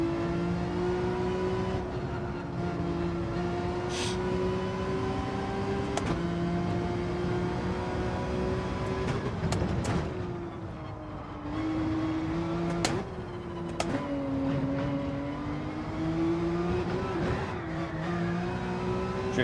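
A race car engine in Gran Turismo 7 drones steadily while drifting, its pitch sliding up and down with occasional sharp clicks and bumps, continuous and fairly loud throughout.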